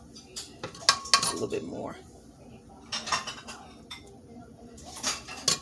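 Cutlery scrapes and clinks against a plate as Jamaican beef patties and rice and peas are served, a string of close ceramic taps and knocks while a person briefly speaks.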